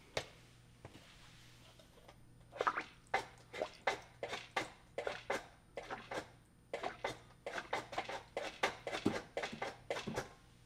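Water from a freshly primed Eheim Professional 4+ 600 canister filter splashing and gurgling into an aquarium in uneven repeated bursts, each spurt distinct over a low steady hum.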